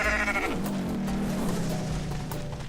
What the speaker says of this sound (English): If you hit 1, your goat screeches.